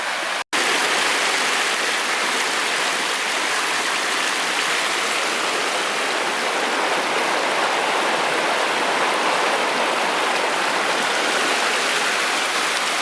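A river at Crammel Linn rushes loudly and continuously as rain falls, a thick, unbroken roar of flowing water close by, with no speech.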